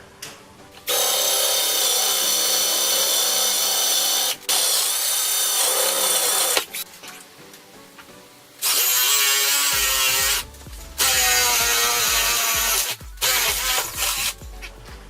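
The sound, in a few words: power drill boring holes with a 5/8 inch bit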